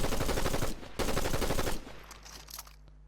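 Rapid automatic assault rifle fire in the Fortnite video game, dense loud bursts for under two seconds, then the shots thin out into quieter scattered reports and fade.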